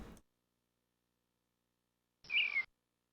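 A short, bright chirp plays as a click sound effect in a Christmas puzzle game, one brief tweet after a stretch of silence, clear and alone.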